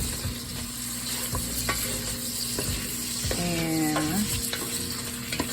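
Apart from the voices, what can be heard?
cabbage with smoked sausage, shrimp and bacon frying in pan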